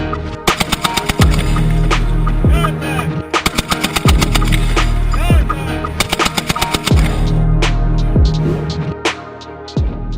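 An M2 Browning heavy machine gun fires loud, close rapid-fire bursts, about four separate strings of rattling shots split by short pauses, with sharp echoing cracks between them.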